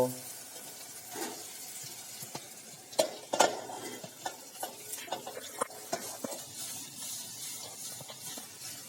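Cut patra pieces sizzle and fry in a pan while a spoon stirs and scrapes, with a few sharp clinks against the metal.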